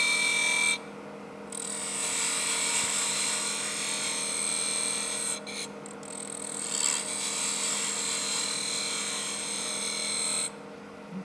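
A wood lathe spins a duck call blank with a steady high whine and hum, interrupted by a few short pauses where the cutting tool lifts off.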